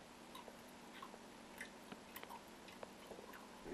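Someone chews gummy bears up close, producing soft, faint, squishy mouth sounds with occasional small clicks and smacks over a quiet background.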